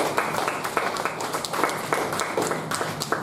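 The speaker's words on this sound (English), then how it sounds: "Let's give a big round of applause for Toastmaster Swetha." Scattered hand clapping from a small group at a Toastmasters meeting, moderately loud and slightly uneven, with individual claps standing out over a soft room background for a few seconds.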